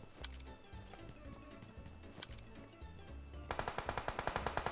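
PUBG gunfire: scattered single shots in the opening seconds, then a rapid automatic burst of about a dozen evenly spaced reports near the end, with game music and effects underneath.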